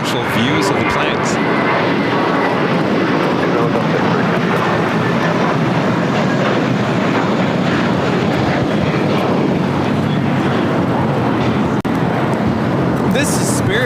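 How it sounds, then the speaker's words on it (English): Spirit Airlines Airbus A321 jet taking off from LAX, a loud, sustained broadband engine roar that fills the whole span with steady intensity, heard from a spotter area at the airport. "This is Spirit Airlines 591 taking off to Houston Intercontinental on an A321."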